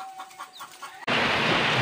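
Chickens clucking softly in a backyard flock, a few close, quiet clucks before a sudden burst of loud broadband noise takes over.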